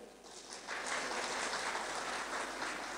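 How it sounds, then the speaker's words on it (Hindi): Audience clapping at a Brahma Kumaris spiritual gathering in India, a dense patter of many hands that starts moderate and swells louder after a moment, then holds steady, with no talk. "ताली तो बजाओ।"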